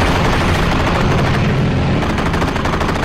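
Rapid, continuous machine gun fire from a WWII aircraft in a Pacific air battle, dense and loud throughout, blended with a roaring engine drone and no pauses.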